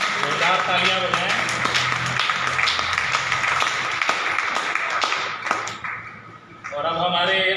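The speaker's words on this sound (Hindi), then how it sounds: "जोरदार तालियां बजाएं।" Audience applause at a Swadeshi Jagran Manch welcome ceremony in Korba, steady clapping and taps running for several seconds, briefly thinning before a voice comes in over it.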